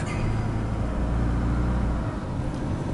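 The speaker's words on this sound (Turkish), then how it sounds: "vites değiştirmeye yakın da böyle bir mırıltı geliyor motordan" An Iveco Daily Hi-Matic with the 3.0 engine and 8-speed automatic gives a steady low engine murmur and road rumble from inside the cab while driving, loud and continuous without speech.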